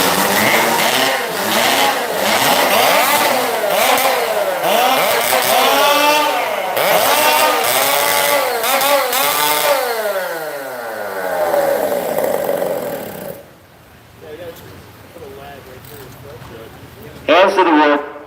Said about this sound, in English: 15 seconds to warm up your saws.